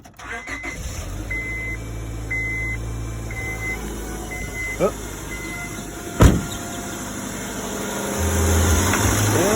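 A 2001 Honda Civic LX coupe with a 1.7-litre engine cranks and starts, then settles into a steady idle, recorded close by with a voice speaking briefly over it.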